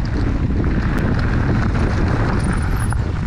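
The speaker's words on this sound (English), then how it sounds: "She's windy." Strong wind buffets the microphone with a steady, loud roar outdoors during a dusty round of golf, filling the whole stretch with constant low rumble and no talk.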